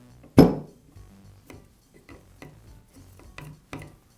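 A sharp metallic clack as a bearing is seated on a Milwaukee Hole Hawg drill motor during armature reassembly, then a string of softer small taps and clicks from handling parts, close and quiet.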